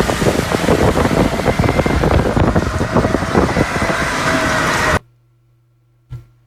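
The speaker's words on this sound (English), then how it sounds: "Look at this wind." Strong wind in extreme weather batters the microphone for about five seconds as a loud, continuous roar. It then cuts off abruptly into near silence, followed by a brief thump.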